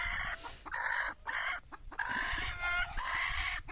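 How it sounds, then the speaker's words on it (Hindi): Desi egg-laying hens on a poultry farm cluck and squawk up close in a quick run of repeated bursts, fairly loud with no talking. "ये मेरी कुछ मुर्गियाँ जो हैं अंडा देने वाली हैं"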